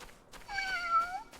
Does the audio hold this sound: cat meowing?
yes